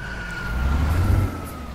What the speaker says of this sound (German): da quietscht ja die Reifen